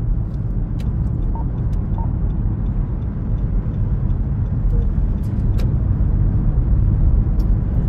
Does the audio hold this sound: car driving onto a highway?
yes